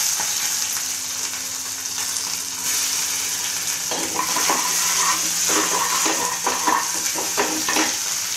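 Small onions fry in hot oil with mustard seeds and urad dal, giving a steady close sizzle with light crackles and brief scraping from stirring in the pan.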